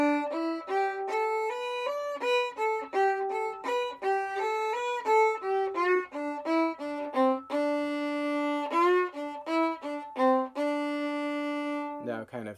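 A solo fiddle plays connected phrases of the Highway 52 Rag, a steady run of bowed notes with slides and several long sustained tones, bright and close, played alone without speech.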